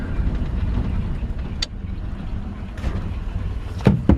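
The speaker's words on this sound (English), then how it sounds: "the engine right now is still running." A 1938 Ford truck's engine idles with a steady, loud low rumble that runs the whole time, broken by a few brief knocks and rattles near the end.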